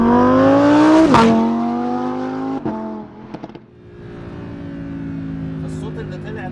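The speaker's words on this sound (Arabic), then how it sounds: "طب انت عايز تدوس فجاه مثلا كيك داون وهي ماشيه 7، انت مجرد ما بتدوس ترجع" A 2021 Lamborghini Huracán EVO kicks down in Strada mode while cruising in seventh gear, its engine note rising sharply, then a gear change and a quieter, steady drone; loud and close, no talk.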